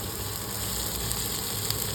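Chopped onions sizzle steadily in hot oil in a pan, browning over the heat as a dense, even crackle continues without pause.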